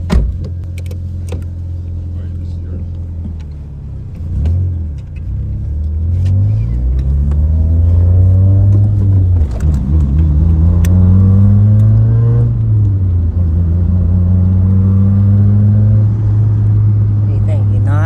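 A Toyota Corolla FX16 GTS, revived after sitting dead, idles with a low rumble, then revs repeatedly in rising and falling sweeps, loud and close, with people talking over it.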